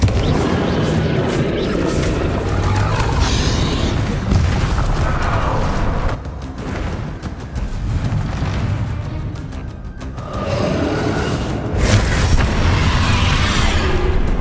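Booming spell blasts and explosive bursts from Bombarda and Confringo casts in Hogwarts Legacy combat, loud and continuous with repeated heavy impacts layered over dense battle noise, dipping briefly before swelling again.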